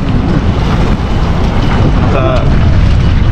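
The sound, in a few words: wind blowing at the seaside fishing spot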